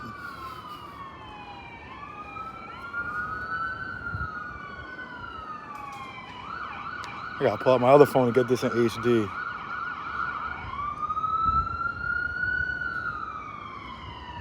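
Police sirens wail, rising and falling nearby in Hollywood, Los Angeles, with a burst of rapid yelping tones in the middle, while someone speaks briefly over them.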